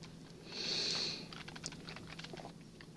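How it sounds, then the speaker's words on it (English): Computer keyboard keys pressed in a short run of soft clicks, preceded by a brief brighter hiss, all fairly quiet against a low background hum with no talking. "hold the Control key of your keyboard and press the left arrow"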